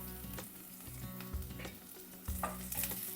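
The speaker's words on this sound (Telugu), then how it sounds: "కొంచెం ఇవి వేగనివ్వాలి ఉల్లిపాయలు వేగుతున్నప్పుడే కరివేపాకు" Onions and curry leaves sizzle in hot oil for a lentil stew tempering, with steady frying crackle and a few louder scraping stirs of a spoon against the pan.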